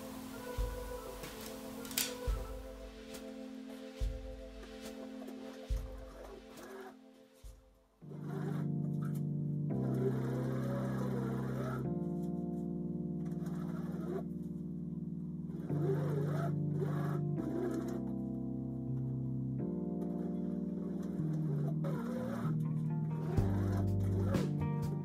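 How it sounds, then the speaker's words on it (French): A sewing machine stitches around a fabric XL beach bag in a loud, steady, close mechanical hum with short pauses and pitch changes as the speed varies, after a few quieter handling noises at the start. "Donc nous allons coudre tout le tour."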